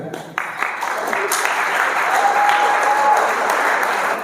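School students in Jharkhand break into loud, sustained group applause, steady dense clapping that rises quickly and carries on for several seconds, with a few voices mixed in.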